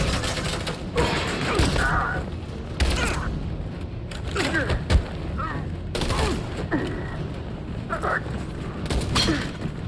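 Gunfire from suppressing fire in the video game Detroit: Become Human, bursts of shots and thuds scattered across a busy mix, with shouted voices and movement noise over the firing.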